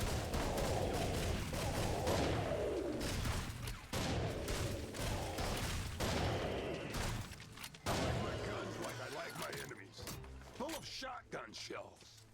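Rapid shotgun blasts from Serious Sam 4 fire in quick bursts of loud, dense booms, repeating in clusters through the clip with brief gaps between volleys.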